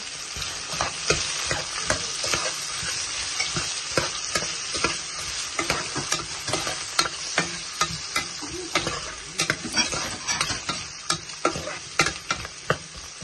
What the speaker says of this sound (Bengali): অনিয়ন কষো, অনিয়ন কষি গেলে তো মশলা